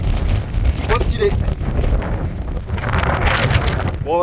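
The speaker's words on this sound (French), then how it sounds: "Je vous épargne un peu le vent là. C'est violent." Strong wind on La Séranne mountain buffets the microphone in heavy gusts, roaring and rumbling continuously at close range.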